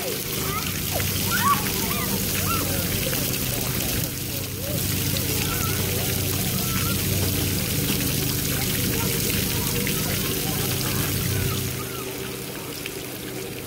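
Water pouring and splashing continuously at a playground, a close steady wash of flow and spatter that eases off near the end, with talk over it.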